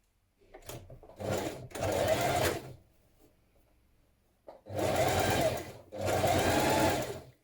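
Domestic sewing machine stitching folded fabric tie ends for a gathered top, running in four bursts of steady mechanical whirring, two short runs, a pause, then two longer runs, close and clear with no talking.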